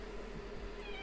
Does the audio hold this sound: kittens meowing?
yes